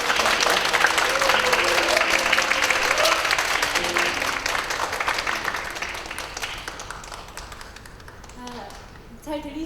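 An audience at a parents' lecture claps loudly to welcome the speaker, with dense applause that gradually thins and fades, while a voice speaks faintly toward the end.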